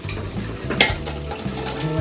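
Ground fenugreek, mustard and cumin fry in hot oil in a pan, a close, soft sizzle with stirring scrapes and a sharp utensil clink, over a low, steady hum.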